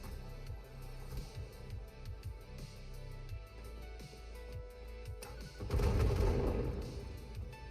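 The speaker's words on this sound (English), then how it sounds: "I like explosions" Explosions from the factory-building game Satisfactory thump in a rapid series of low bursts, then a larger, louder blast rolls out near the end.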